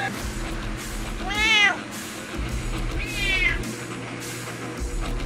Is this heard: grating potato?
no